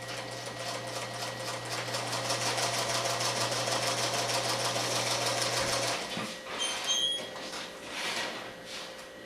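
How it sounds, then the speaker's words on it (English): A sewing machine runs steadily while stitching a pineapple quilt block, a fast even whir for about six seconds before stopping, followed by faint handling clicks. "take it to the machine, stitch on the line"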